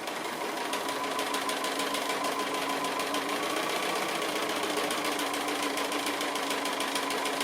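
A sewing machine stitches quilt pieces for a house sampler block, a steady rapid mechanical whirring and clatter running evenly and close throughout, with no talking.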